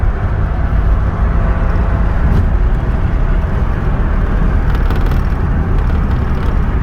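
A 1992 Renault Alpine GTA V6 Turbo accelerates, its engine a loud, steady low roar heard from inside the car for the full stretch, with no talk over it.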